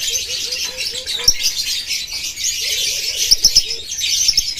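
Lovebirds, including a PB Ewing Blue and other colour mutations at a bird market, chirp in short repeated bursts over a bright, steady background of many birds twittering, with no talk.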